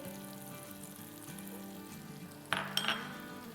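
Tomato puree fries and sizzles in a pan for a baby bella mushroom handi or karahi, a soft, steady hiss with a few sharp metallic clinks of a utensil near the end.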